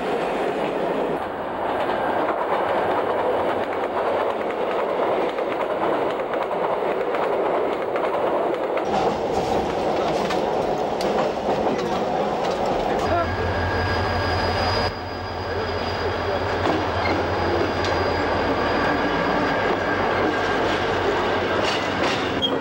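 A military troop train carrying tanks rolls steadily along the rails, wheels clattering in a continuous rhythm with a deeper rumble joining partway through, loud and close with no talk.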